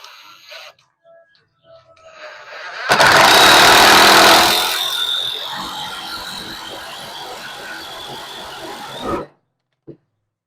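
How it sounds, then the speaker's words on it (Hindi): A Ryobi impact driver drives a screw: a loud, close burst of rapid mechanical hammering that starts abruptly, eases into a steady rattling whir for several seconds, and then cuts off sharply, followed by a faint tap. "तो इसे कहते हैं इम्पैक्ट ड्राइवर।"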